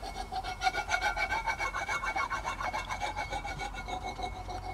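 Cast iron pot being scrubbed by hand, close and moderately loud, with quick rhythmic rasping strokes that keep up steadily throughout.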